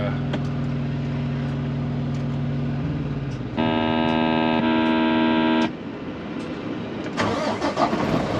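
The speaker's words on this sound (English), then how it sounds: "let me start the truck up here real quick" A semi truck's diesel engine cranks and fires up, settling into a steady rumbling idle, then a loud, steady warning beep sounds for a couple of seconds over the running engine.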